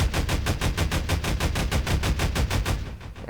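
Rapid automatic gunfire from a player-built gun turret in the Garry's Mod Wiremod video game, a steady rhythm of loud evenly spaced shots for about three seconds before stopping.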